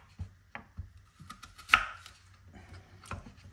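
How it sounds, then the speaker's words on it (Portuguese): Knife chopping food on a cutting board while preparing shredded chicken: a series of sharp, irregular knocks close by, with a louder strike midway. No one speaks. "Tá picando as coisas aqui."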